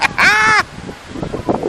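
A bird at the beach gives one loud, harsh crow-like caw nearby, followed by quieter voices talking in the background.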